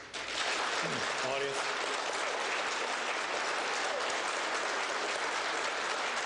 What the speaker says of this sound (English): please hold your applause until the end of the debate